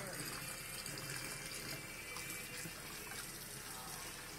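Water runs steadily from a bathroom sink tap during tooth brushing, a continuous close hiss that lasts throughout while a child and an adult talk over it.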